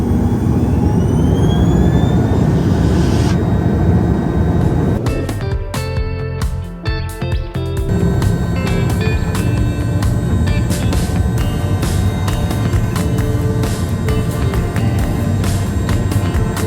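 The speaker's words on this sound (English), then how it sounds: "Flight attendant, please prepare for takeoff." Passenger airliner on a takeoff roll to climb-out, heard from inside the cabin: a loud, steady broadband jet engine roar with rising whine, sustained throughout with brief rattles near the middle.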